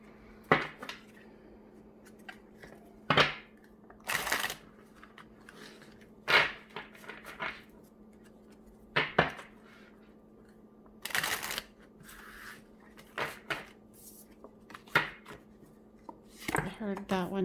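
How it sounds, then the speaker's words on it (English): A deck of tarot cards is shuffled by hand, producing a series of short, crisp riffling bursts spaced irregularly over a quiet background, with faint handling noises in between. "Okay, I'm going to shuffle these"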